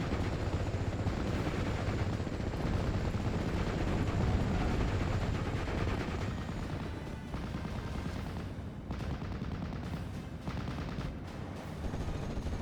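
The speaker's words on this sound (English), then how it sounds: "machine gun fire just provided a substantial amount of suppression" Machine gun fire rattles through a Steel Division 44 battle, a continuous dense stutter of shots mixed with distant rumbling. It is loudest in the first half and then thins a little.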